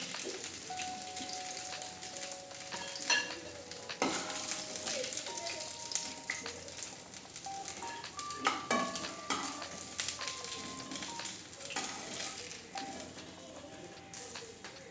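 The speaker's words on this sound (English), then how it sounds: "Now we'll keep it for at least few minutes for fry" Banana stem kofta frying in oil over a low flame, a steady soft sizzle running throughout with scattered clinks and small bird-like chirps in the background.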